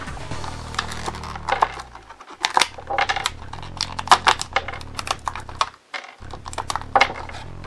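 Small plastic Revell model kit parts for Iron Man Mk42 and Spider-Man clatter and tap out of their packaging in quick, close bursts of light clicks and rattles with brief pauses, no talking.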